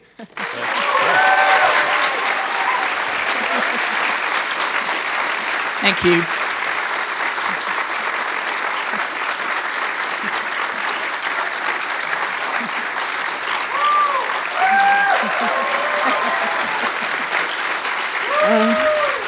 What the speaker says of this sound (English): we actually have to give a round of applause specifically for Jen